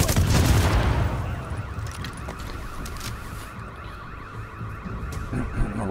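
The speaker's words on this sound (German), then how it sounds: "bis hin zur Alarmanlage, die losgeht" A car alarm goes off in the video game The Division, a repeating electronic wail that starts loud amid a burst of noise and then continues steadily under other game sounds.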